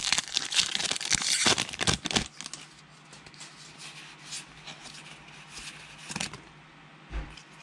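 A Magic the Gathering Double Masters booster pack is torn open. Loud crinkling and ripping of the foil wrapper comes first, close up, then quieter rustling and shuffling of cards, ending with a soft thump.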